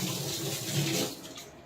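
Running tap water splashes steadily into a sink as hands are washed, a continuous close hiss with no talking.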